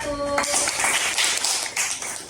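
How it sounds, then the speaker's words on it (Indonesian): Classroom applause for the first student group during a teaching practice session, a brief burst of clapping lasting about two seconds after a short tone at the start, fairly loud and close. "beri aplaus untuk kelompok 1"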